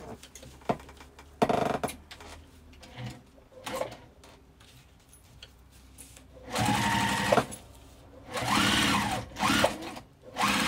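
Sewing machine stitching a beachcomber coin purse, several short bursts of running stitches with pauses between, then longer runs near the end, close and clear with no talk.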